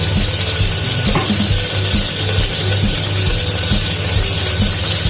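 Mustard seeds sizzling and popping in hot oil in a clay pot while making rasam, a loud, close, continuous crackle with scattered pops.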